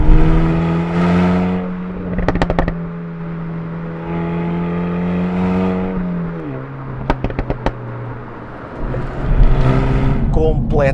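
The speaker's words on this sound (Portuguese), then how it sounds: "Este escape especialmente trabalhado fabrica ratéis e pipocas num ritmo de uma forma" A 2020 Renault Megane RS Trophy revs hard, its tuned exhaust firing bursts of pops and crackles in between sustained engine notes. Someone talks over the car throughout.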